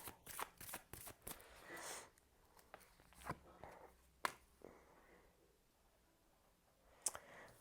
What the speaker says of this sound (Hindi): मैं क्या ही कार्ड निकाल रही हूँ